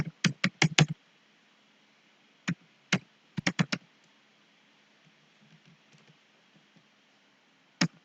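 Bursts of computer keyboard typing, quick clustered key clicks at the start and middle with a few isolated taps later, fairly close over a quiet background.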